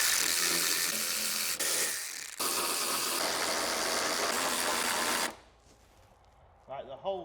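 A power driver whirs loudly and continuously for about five seconds as it undoes the window regulator bolts on a Land Rover Freelander rear window. It then stops, leaving a quiet pause and a few brief mechanical rattles.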